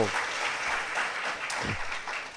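Conference audience applauding, a steady, moderately faint wash of many hands clapping together throughout the brief moment, with no clear talk over it.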